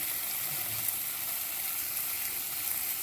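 A paste of tomato, green chilli, coriander, cumin and garlic being sautéed for a mutton curry, giving an even, dense sizzling hiss that holds steady throughout without pauses.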